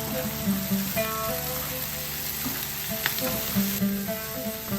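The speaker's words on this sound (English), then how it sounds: "To the same oil, saute onion, tomato and the cashews." Onion, tomato and cashews sauté in hot oil, giving a steady close sizzle and crackle, with a few soft stirring scrapes throughout.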